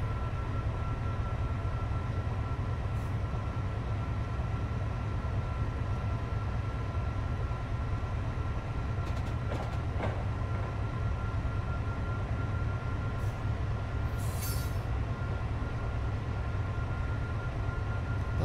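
A Class 70 diesel freight locomotive in Train Simulator 2017 on the South Wales coastal route drones with a steady low engine rumble and rail noise throughout, with a few brief higher clanks and hisses.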